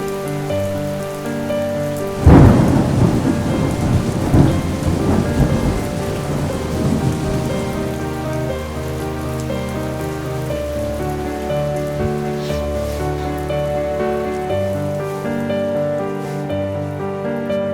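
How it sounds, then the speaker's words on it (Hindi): Heavy rain pours steadily on surfaces throughout, with a loud close thunderclap early on and rumbling that fades into the continuous downpour; no one speaks. "बहुत बारिश हो रही है, बहुत बारिश हो रही है।"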